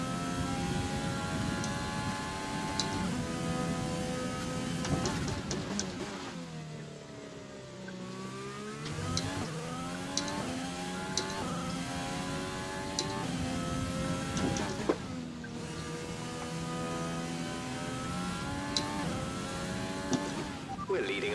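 Race car engine in a racing game at Austria, revving and dropping as it shifts up through the gears, with repeated rising whines and a dip mid-run, heard under faint commentary.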